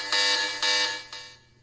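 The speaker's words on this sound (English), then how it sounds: "Alarm bell, it's as loud as your volume is," Alarm bell tone from an Ulefone Note 9P phone speaker, bright piercing bursts repeating in pulses, loud and close with no talking.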